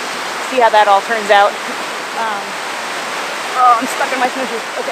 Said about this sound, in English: I hope you guys can hear me okay over the water